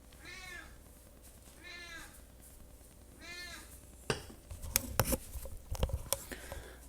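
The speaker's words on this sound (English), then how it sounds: "And my cat is loud." A pet cat meows three times, drawn-out and clear, indoors, followed by scattered tapping and rustling knocks in the room, with no talk.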